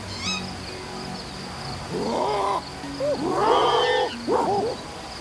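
Hooting, wavering calls rise and fall in several bursts, loud and close, in the primate-survival video game Ancestors: The Humankind Odyssey, set over a quiet background hum with no talking.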